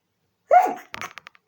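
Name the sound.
sneeze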